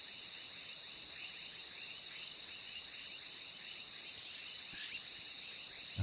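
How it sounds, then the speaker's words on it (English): Crickets chirp steadily and continuously as a dense high-pitched trill, a constant night insect chorus with no voices, ending in a brief sharp thump. "You weren't sleepy before the crickets."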